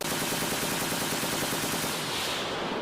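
Rifle fire rattles in a dense, continuous barrage as defenders shoot from gaps in a building at attacking monsters, loud and unbroken throughout the short stretch.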